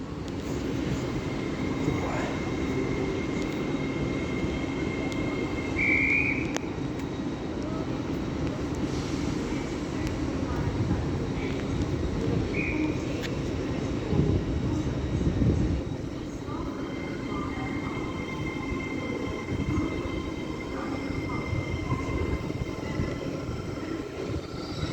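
A Class 801 train departs Doncaster station on the East Coast Main Line, a steady, moderately distant rumble and hum with brief higher squeals, continuous for the whole stretch.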